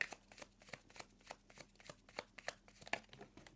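Tarot cards being shuffled by hand, a quiet run of soft riffling flicks and slaps in an uneven rhythm, close by with no talk.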